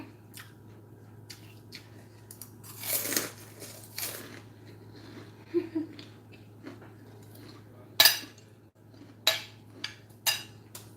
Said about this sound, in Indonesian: Kerupuknya renyah banget emang.